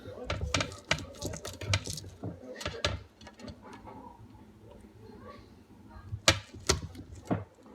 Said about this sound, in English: put the ginger there, and you literally just like crush it